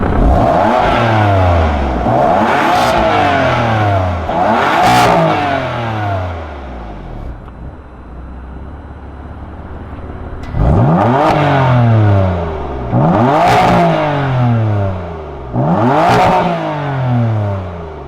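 A BMW M4 twin-turbo V6 engine revs hard again and again through a raspy exhaust, the pitch sweeping up and falling back in repeated bursts, with a brief lull partway through.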